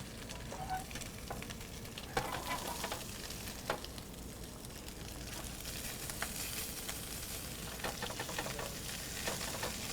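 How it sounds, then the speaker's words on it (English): French toast sizzles and fries steadily in a hot pan during a Sunday brunch cook, with occasional clinks and scrapes of a spatula flipping it, no talking. "We're going to flip that French toast there."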